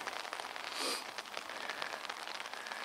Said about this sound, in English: That rain's getting heavier, isn't it?